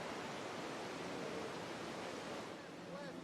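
Big waves at Nazaré heard through an underwater microphone, a dense, continuous roaring wash of churning water that stays loud throughout.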